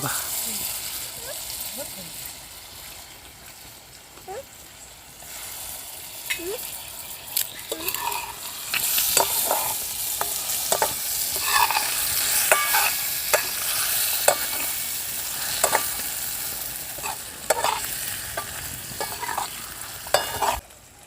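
Freshly cleaned river fish tipped into fried masala spices and stirred in a pan, producing a sizzling hiss with repeated scraping and clattering stir strokes that grows louder, while someone talks throughout.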